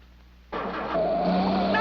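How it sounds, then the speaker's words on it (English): Cartoon car fires up with a sudden loud engine roar and keeps running steadily as it begins to move, with a rising whine near the end. "Now start up the car and back it out."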